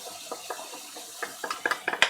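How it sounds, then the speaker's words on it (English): Chicken with chili, garlic and chili flakes stir-fries in a pan: a soft, steady sizzle broken by quick scraping and tapping clicks that grow a little busier toward the end. "chicken's had about a minute stir frying. Chili, garlic, and chili flakes going in there."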